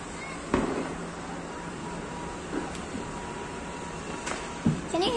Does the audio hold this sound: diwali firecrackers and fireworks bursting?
yes